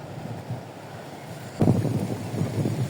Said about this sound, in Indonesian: Dan anginnya juga lumayan kencang ini.